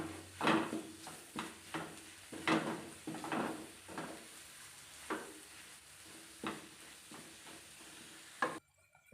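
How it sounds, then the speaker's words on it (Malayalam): Coriander and chili powder masala frying in a pan for Kerala-style beef curry, with a steady soft sizzle and repeated scraping stir strokes at an uneven rhythm, close and moderately quiet. "മല്ലിപ്പൊടി മുളക് പൊടിയൊക്കെ ഇട്ട് കൊടുത്തേണ്ടതൊന്ന് നല്ലോണം ഒന്ന് മൂത്ത് വരണം"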